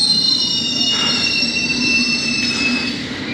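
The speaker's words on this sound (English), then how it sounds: "The train is just arriving." A London Underground train pulls into a platform with a loud, steady high-pitched wheel squeal over a low rumble of the cars, easing slightly toward the end.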